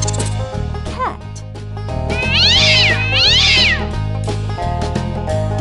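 A cat meows several times, drawn-out and wavering, over a loud looping music track in a farm-animal stacking game.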